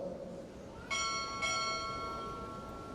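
At a recruit training chief petty officer pinning ceremony, a ship's bell sounds twice, a clear pair of ringing strokes roughly half a second apart that hang and slowly decay, heard alone without speech.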